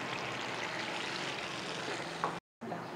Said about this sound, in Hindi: एक कप पानी डालेंगे, इसको उबाल आने का इंतज़ार करते हैं।